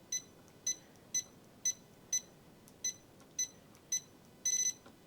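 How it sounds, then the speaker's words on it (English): A Janome embroidery sewing machine emits a series of short, evenly spaced high-pitched beeps, about one every half second, ending in a quick rapid cluster, over low background hum. "it couldn't fit I in, so it started beeping at me"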